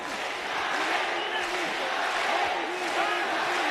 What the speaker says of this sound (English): And the crowd beginning to chant for Kazuo Misaki.